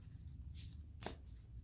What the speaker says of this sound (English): we're going to attempt to do another shuffle.